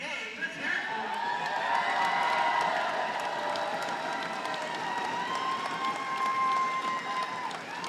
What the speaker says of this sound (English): Listen to the crowd rumble to the bleachers up there.